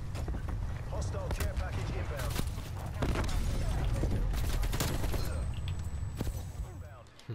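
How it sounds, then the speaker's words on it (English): Sentry gun fire in the Black Ops Cold War video game, heard as rapid bursts of shots over busy game noise, with voices talking underneath. "I brought the guy's sentry gun"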